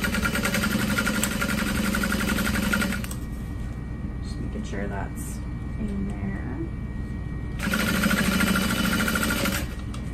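Sewing machine top stitching a Louise Barrel Bag at a 4.5 stitch length, a steady close mechanical whir that runs for about three seconds, pauses, then starts again near the end.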